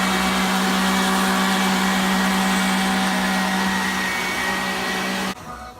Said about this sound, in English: I'm gonna blend it.